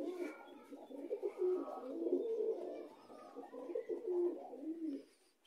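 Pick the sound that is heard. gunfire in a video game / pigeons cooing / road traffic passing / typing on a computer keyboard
pigeons cooing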